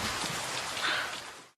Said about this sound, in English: That night heavy rain forced her to shelter under a building.